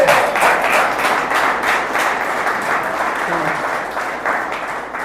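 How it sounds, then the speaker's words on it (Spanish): A church audience gives a round of applause, steady rhythmic clapping from many people that stays fairly loud throughout, with a faint murmur of voices mixed in. "Sí, un aplauso."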